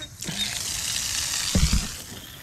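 Water from a low-pressure hose hookup runs in a steady hiss, close by, with a brief clunk partway through.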